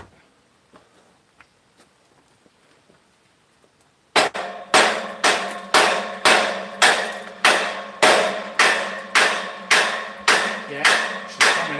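A heavy lump hammer striking a rusty stuck part in a workshop, about fifteen loud, evenly spaced metallic blows after a few seconds of quiet, each ringing briefly.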